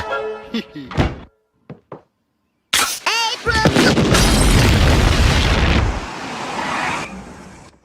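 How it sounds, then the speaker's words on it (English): An explosion in The Simpsons cartoon: a heavy boom after cartoon voices and a brief pause, followed by several seconds of loud rumbling debris and crackle that slowly fades. "That sounded like an explosion at the old Simpson place."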